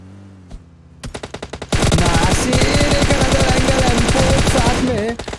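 Rapid automatic gunfire in a battle royale video game tournament match, sustained bursts of loud shots after a few scattered single shots, dense and continuous to the end.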